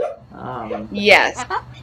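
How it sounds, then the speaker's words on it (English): A female dog dreaming in her sleep gives a few muffled, soft yips and whimpering barks, brief and close, mixed with a person's voice speaking over them. "if you can hear my dog having a dream right now, she is barking in her sleep"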